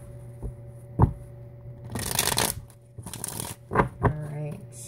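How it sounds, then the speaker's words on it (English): A tarot deck is shuffled up close in a quiet room, with a few short crisp riffles and card flutters broken by small taps, and brief pauses between bursts. "One more shuffle here."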